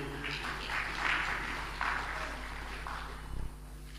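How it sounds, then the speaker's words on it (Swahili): A crowd of officials and guests claps for the leaders at a formal Tanzanian state ceremony where President Samia receives the CAG audit report; steady, moderately loud applause swells in a few waves and carries on for several seconds. "Makofi mengi viongozi."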